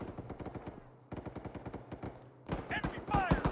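Enemy automatic gunfire in the Arma 3 military shooter, rapid bursts of close shots firing in quick rhythmic volleys, with shouting voices breaking in near the end.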